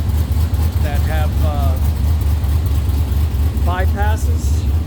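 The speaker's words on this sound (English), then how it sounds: "So it fires up really nice. A pretty mellow sound." A Superlite Aero car with mufflers and exhaust bypasses idles with a steady, mellow, low rumble close by, while someone talks over it.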